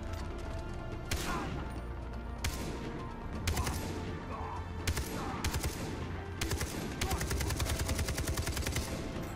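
Gunfire and shotgun blasts in the first-person shooter Far Cry 3: loud bursts of automatic fire and heavy single shots over a continuous game soundscape, dense and close.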